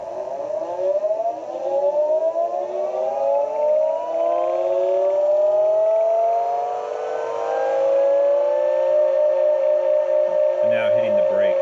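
DresKar FT001 electric skateboard hub motor spinning up alone: a steady electric whine rising slowly in pitch over about ten seconds, loud and close, ending with a brief clunk as it brakes.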